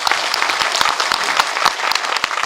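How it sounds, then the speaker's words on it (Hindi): Audience applause at a speech on Adivasi tribal leadership, a dense burst of many hands clapping close and loud with sharp individual claps over the crowd, no talk heard. "एक जोरदार से तालियां पाने ला प्यारे भैया"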